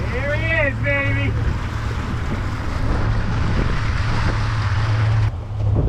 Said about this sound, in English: There goes the waves.